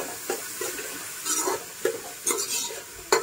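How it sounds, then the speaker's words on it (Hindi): Chopped onions for Muslim-style chicken pulao fry in a pan with a continuous hiss, punctuated by about eight scraping stirs of the spatula at irregular intervals. "इसको अच्छे से फ्राई कर लीजिए,"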